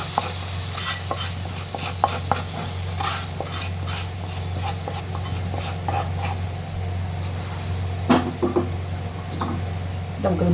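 Kashmiri chilli powder being mixed into fish masala curry gravy, with continuous close stirring and spoon scraping over a steady sizzle and low hum, a few sharper clinks near the end.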